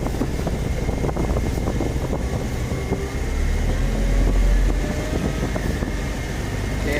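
A Kubota 135 tractor with an air-conditioned cab drives with its engine running, a steady low rumble and drone that swells slightly midway, loud and continuous inside the cab, with no talk.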